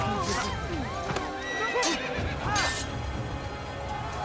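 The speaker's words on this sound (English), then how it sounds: "There's a horse here" A horse in the video game Assassin's Creed whinnies several times over clip-clopping hooves and busy game ambience, the neighs close and fairly loud.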